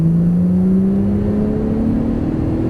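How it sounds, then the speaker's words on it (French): A Porsche GT3 Turbo engine drones loud and close at full throttle, its tone climbing slowly as the car accelerates out of a corner on a track. "Et on accélère. Allez, pied plancher."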